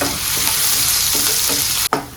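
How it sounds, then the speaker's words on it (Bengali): Chopped onions fry in hot mustard oil in a pan with a steady, close sizzle, broken near the end by a single sharp clack of a utensil. "পেঁয়াজটা লাল লাল করে ভেজে"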